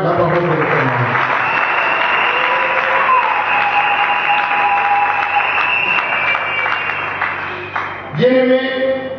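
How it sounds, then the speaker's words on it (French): An audience at a religious gathering breaks into loud, sustained applause acclaiming the word of God, a dense wash of clapping that holds for several seconds before tapering off, followed by a brief swell of voices at the very end. "On acclame la parole de l'Éternel."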